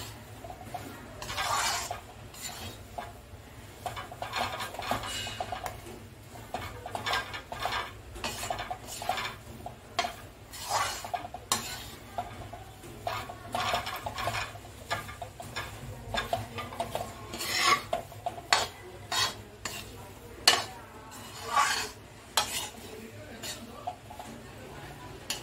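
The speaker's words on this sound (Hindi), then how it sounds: "जैसे ही बेसन बुनना शुरू होता है घी छोड़ने लगता है।" Gram flour (besan) roasting in ghee in a pan for laddoos, stirred with a spoon that scrapes and clinks against the metal in an irregular rhythm, fairly faint, while someone talks throughout.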